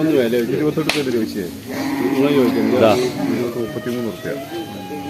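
Cattle and young buffalo at a Sunday livestock market in Kollannur, with low moos and animal calls mixed into steady crowd chatter and nearby talk throughout.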